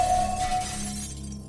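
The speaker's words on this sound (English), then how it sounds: "The silence is broken by the muffled shouts and sounds of crashing pots and pans coming from the door end." A crash of clattering pots and pans, used as a sound effect in a board game app for Mansions of Madness, rings out loud and sharp, then fades over about a second and a half.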